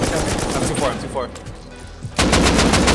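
Gunfire in the Rust survival game, a rapid burst of loud close shots, a brief lull, then another heavy volley right at the end, with a player's voice briefly in the background.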